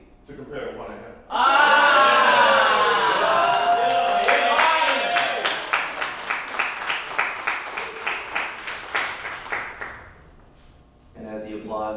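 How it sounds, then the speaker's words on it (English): An audience at the 2024 Words Beats and Life Combine compliment battle erupts in loud cheers and shouts, then settles into rhythmic group clapping that gradually fades, with a voice returning at the end. "And as the applause dies, that's the best thing I ever heard."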